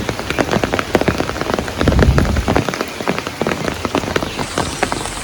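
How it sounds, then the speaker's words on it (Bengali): Heavy morning rain pattering densely on a hard surface nearby, with sharp individual drops standing out and a brief louder surge midway. "আমাদের এখানে বৃষ্টি হচ্ছে"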